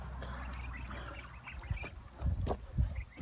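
Ducks in a pen, including a handsome drake, give low quacks and calls over steady background noise, getting louder and more frequent in the second half.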